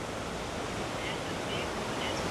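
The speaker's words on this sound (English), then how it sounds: "These waves are big." Large ocean waves rolling past a Royal Caribbean cruise ship, the Utopia of the Seas, heard as a steady, loud wash of surf with wind noise on the microphone throughout, no talking.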